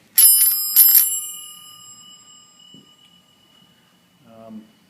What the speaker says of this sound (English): Got the bell here, the big brass bell